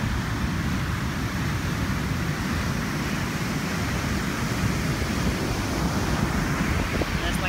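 Steady broadband rush of ocean surf on a deserted California beach on a winter day, continuous and fairly loud with wind noise blended in, no voices.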